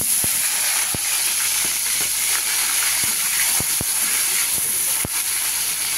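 Tomato goes into a hot pan with crushed garam masala and sizzles loudly, a continuous close frying hiss with faint clicks throughout.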